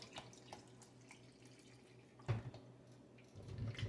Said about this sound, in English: I'm going to be adding filtered water to boil them in